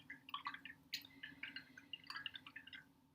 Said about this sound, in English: I'm going to clean off my brush in that dirty water first